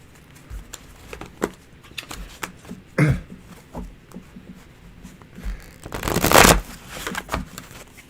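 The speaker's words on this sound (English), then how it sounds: "I already shuffled." Tarot cards are shuffled and handled close by in bursts: scattered soft flicks and riffles, a sharp crisp flurry near the middle and a louder, longer riffle toward the end, with no talking.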